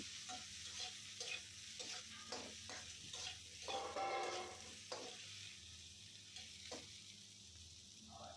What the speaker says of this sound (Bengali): বেগুন এত বেশি ভাজার প্রয়োজন নাই